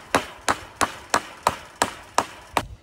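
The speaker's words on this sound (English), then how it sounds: "using these galvanized fence staples to hammer in one side on this post where you're starting" Hammer blows drive galvanized fence staples into a wooden post for a hog wire fence, eight sharp, evenly spaced strikes about a third of a second apart, close and loud with no talking.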